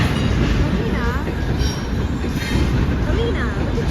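An Amtrak passenger train rolls past close by, a loud continuous rumble of wheels on rail with repeated high metallic squeals and rhythmic clatter throughout.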